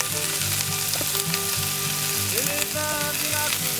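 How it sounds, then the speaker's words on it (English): Vegetables and onions dropped into a hot pot for shrimp stew, crackling and sizzling loudly and steadily, with intermittent clinks and tonal scraping from utensils against the pot. "So now that your pot is hot, go ahead and add your vegetables to it."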